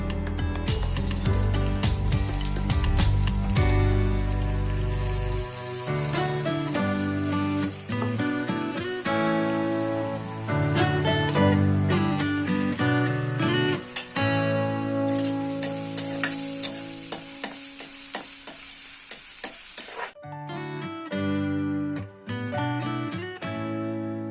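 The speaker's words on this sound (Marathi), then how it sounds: "तेल थोडंसं टाकून कांदा भाजून घ्यायचा." Chopped onion fries in a little oil and is stirred for a Malvani-style prawn dish, making a continuous sizzle with scraping and clinking of the spoon; the frying quiets near the end, leaving scattered clicks.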